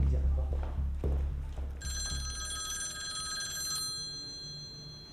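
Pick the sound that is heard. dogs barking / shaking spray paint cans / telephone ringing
telephone ringing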